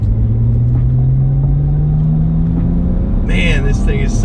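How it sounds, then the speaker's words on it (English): A BMW engine pulls hard at full throttle through third gear from about 1500 RPM, its droning note climbing steadily toward redline, loud and close, with a brief burst of higher noise near the end. "So I'm going to start at about 1500 RPMs and rev it all the way out through third gear."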